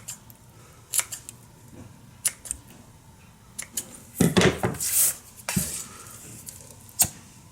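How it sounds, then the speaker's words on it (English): Scissors snip excess paracord while a keychain is tied, giving a few sharp clicks and close crisp cuts spread across a quiet tabletop background, with a denser burst of handling noise in the middle. "Cut off some of that excess."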